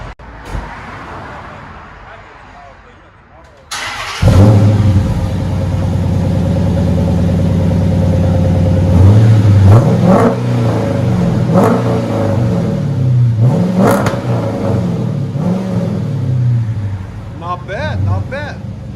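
A Dodge Charger R/T with the 5.7L Hemi V8 and Flow FX mufflers starts up with a sharp bark, then idles deep and revs several times, loud and close, ending with a brief drop in volume.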